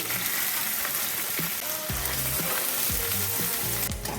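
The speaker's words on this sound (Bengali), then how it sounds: "কড়াইতে সর্ষের তেল দিচ্ছি, একটু পেঁয়াজ কুচি।" Chopped onion frying in mustard oil in a wok gives a steady, loud, close sizzle with a few soft stirring knocks, and no voices.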